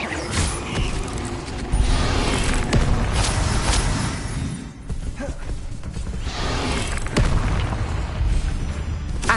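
Booming blasting-spell explosions in the Hogwarts Legacy game on PS4, heavy bursts and whooshes piling up into a loud, continuous battle din with a brief dip midway and no talk.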